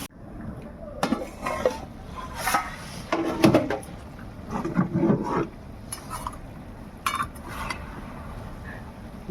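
A lid goes onto a cooking pot of dried fish and greens amid repeated close metallic clinks and knocks, irregular clattering scrapes spread over several seconds.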